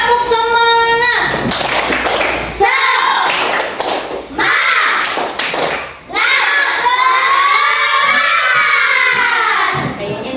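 A class of primary-school children performs a rhythmic spirit clap, their loud, quick patterned claps mixed with shouted chanting in a noisy classroom.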